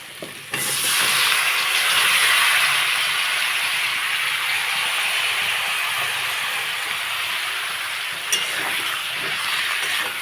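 Chopped eggplant cooks down with ginger and spices for a spicy fish curry, producing a strong, steady hissing sizzle right at the pan. It starts abruptly and continues unbroken, with a faint scrape partway through.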